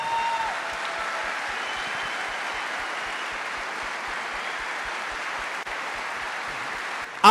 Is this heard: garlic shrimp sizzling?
no